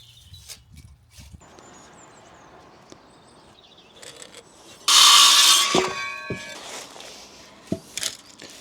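Blocks are stacked onto a small garden retaining wall and screwed into place. Scraping and wooden knocks lead up to one loud, close whir of a power driver midway, which winds down into further clunks.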